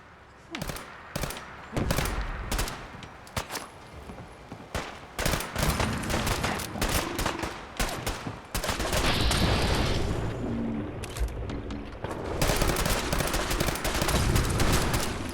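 Gunfire breaks out in Fallout 4 during a Far Harbor fight against attacking gulpers: irregular bursts of shots and rattling volleys, some sharp and some rolling, build into a sustained barrage, with occasional shouted voices among them.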